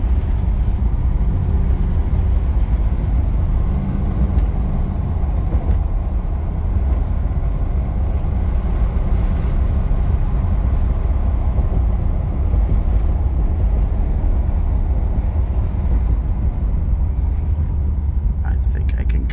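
Steady roaring wind and road rumble fill the cabin of a 1989 Aston Martin Lagonda Series 4 on the move, loud and constant throughout with no break.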